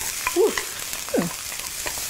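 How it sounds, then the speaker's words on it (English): Peppers and onions sizzle in a hot pan with a constant crackling hiss, broken by two short scraping squeaks as they are stir-fried. "We are going to stir fry now"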